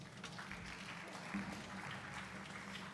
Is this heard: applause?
yes